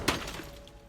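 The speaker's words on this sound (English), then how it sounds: "The bearded man heard glass break" Glass shatters with a sharp, close crack and brief crashing fragments after a rifle shot, quickly fading into a quiet tail with a faint hum.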